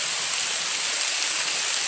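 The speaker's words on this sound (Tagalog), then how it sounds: "Lakas yung ulan." Steady, dense hiss of rain falling hard and continuously, with no breaks or voices.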